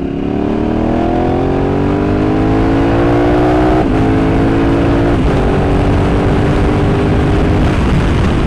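A KTM Super Adventure S motorcycle accelerates hard to overtake a car, its engine note climbing steadily through quick gear changes with brief dips, loud and close over constant wind roar.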